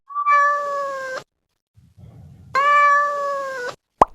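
A sampled cat meow plays through a synthesizer tuned to middle C, two long sustained tonal meows with a gap between them, loud and clean, then a short clipped blip at the end.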